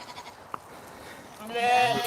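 Sheep bleat at a shedding gate on a farm during shearing season. A quiet, rustling start with a single sharp knock gives way to a loud, drawn-out bleat near the end, with other animals faintly calling close by.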